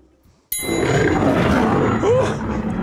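A loud, sustained voiced growl mimicking a lion's roar, set among paper plate craft ideas, starts abruptly after a brief quiet moment and holds steady for about two seconds.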